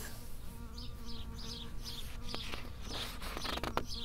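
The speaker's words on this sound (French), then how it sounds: "Bonjour petite abeille." A bee buzzes close by outdoors among flowering herbs, a steady insect hum with wingbeat swells throughout, over faint background noise.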